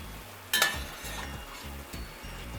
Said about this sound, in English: The idea is to get a good sear on our 2 pounds of meat here.